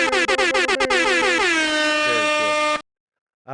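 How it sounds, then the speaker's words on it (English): A loud air horn blares with a long sustained, wavering harmonic blast, opening with a few sharp stutters, then cutting off abruptly. "The air horn's going?"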